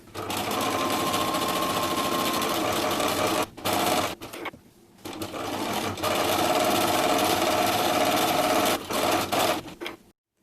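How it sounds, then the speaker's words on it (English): A sewing machine runs basting stitches along the fabric edge of a pumpkin pie pillow's crust. It hums steadily at close range, with a few short pauses and stop-start bursts. "First thing we are going to do is to sew a row of basting stitches along the bottom of the edge of the crust."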